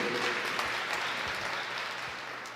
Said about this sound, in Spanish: Demos un aplauso de bienvenida.